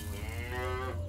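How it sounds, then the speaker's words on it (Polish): A cow moos once quietly, a short, low, tonal call that lasts about a second over a steady low hum in a dim barn with hay. "Ich oczom ukazała się krowa, która słysząc niepokojące skrzypienie, wydała cichy odgłos muczenia."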